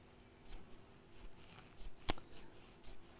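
Scissors snip through fabric at a quiet home sewing table: a single sharp, close cut stands out over faint rustling, with no talking.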